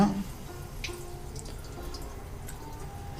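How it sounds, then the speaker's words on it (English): Water tap running in a garage workshop, a steady faint stream with a few light drips, close and alone without talk. "A little more water on now."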